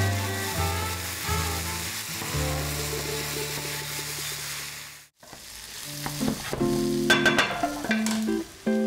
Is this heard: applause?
no